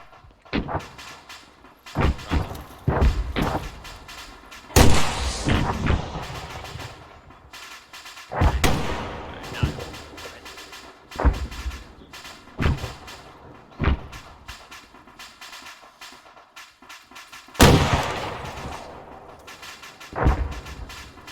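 Repeated gunshots and heavier booms crack out at an irregular pace during special forces detachment training at a shooting range, some loud and sharp, others duller and farther off, with brief quiet gaps between the reports.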